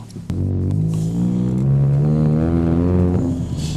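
A loud, deep exhaust from a four-cylinder Hyundai Tuscani with an aftermarket exhaust drones and rises as the car accelerates, steady and rumbling from start to finish, with no booming.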